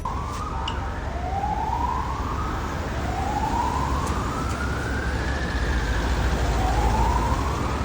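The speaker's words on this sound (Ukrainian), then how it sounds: "В ньому можна почути лише звук сирени та автомобілів, що рухаються." A wailing siren rises and falls repeatedly over a constant roar of passing traffic, loud and continuous throughout.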